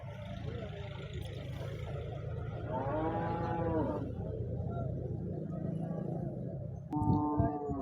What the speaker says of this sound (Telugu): ఇక్కడ మొత్తం మన జెర్సీ ఆవులు హెచ్ఎఫ్ ఆవులు ఈ చెట్ల కింద మొత్తం అవే ఉంటాయండి